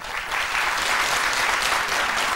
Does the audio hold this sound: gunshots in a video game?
no